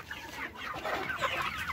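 Roosters in a farmyard pen clucking and chattering softly, several birds in a continuous low, fairly quiet stream with no speech.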